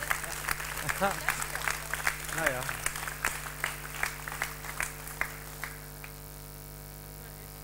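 A theatre audience at an amateur summer production of an Agatha Christie mystery claps in scattered, uneven bursts that thin out toward the end, heard under a sung or spoken voice with some background music tones.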